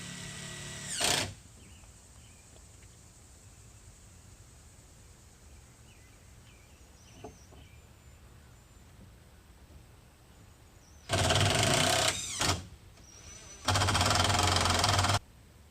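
Power drill driving screws into pine rails on a homemade manual machine: two loud, near bursts of whirring late in the clip, plus a brief one at the start, with quiet gaps between.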